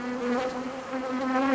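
Bees racing in a long-distance bee race drone with a steady, close, continuous buzz, its pitch wavering slightly as they fly; no voices are heard.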